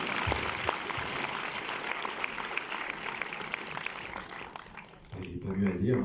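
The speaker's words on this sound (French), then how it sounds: "je vous demande d'applaudir s'il vous plaît" Audience applause at a French film premiere, a dense wash of clapping from a large crowd that holds steady for about five seconds before thinning, with voices starting up as it fades.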